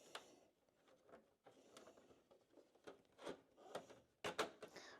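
A plastic pre-filter being pulled out from its tabs on a Kaltech WallAir wall-mounted air purifier, a series of close, quiet scrapes, clicks and rustles that end in a sharper snap, with no talking.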